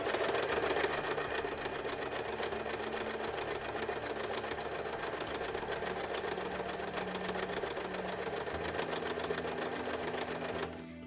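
A sewing machine stitching a cushion cover runs nonstop up close, a fast, even mechanical whir and chatter that holds steady and then winds down at the end.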